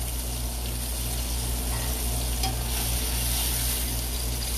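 Small pieces of lean meat fry in sunflower oil in a pan, a loud, steady, close sizzle with continuous crackling and bubbling and no talk over it.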